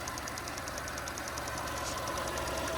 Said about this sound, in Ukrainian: Двигун працює рівненько, частенько.